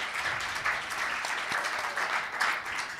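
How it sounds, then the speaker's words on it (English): Audience applause at an elders' gathering honoring a music figure, steady crowd clapping that holds at an even, moderately distant level throughout. "You can applaud for that one."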